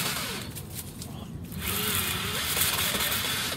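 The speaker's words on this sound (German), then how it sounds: "Sie sehen, sie können auch mit der Bohrmaschine arbeiten" An electric drill drives a hand-cranked Tabakmaster Delux 100 Plus tobacco cutter, giving a steady, fairly loud mechanical whir with a brief dip in the middle before the motor runs on evenly.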